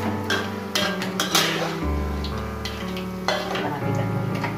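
Peanuts fry in a pan while being stirred, making a continuous close sizzle broken by scraping and knocking from the utensil against the pan.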